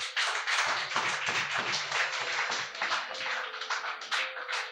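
Church congregation clapping loudly to acclaim God during a sermon, a fast run of sharp close hand claps that thins into scattered claps, with a faint sustained tone near the end.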